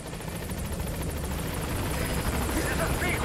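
Helicopter in the Metal Gear Solid V: The Phantom Pain video game, a steady whirring rotor drone held at even loudness throughout, with a voice talking over it.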